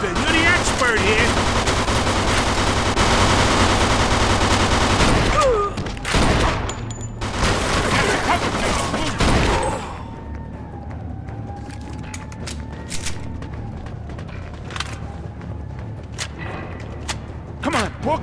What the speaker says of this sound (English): They're shooting at me, for Christ's sake!